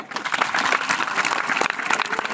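Audience applause at a Marathi motivational speech for students, a dense continuous clatter of many hands clapping throughout, fairly loud and steady with no pause.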